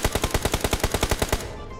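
Automatic gunfire in PUBG Mobile: a rapid, steady stream of about a dozen loud shots, then a brief fading tail.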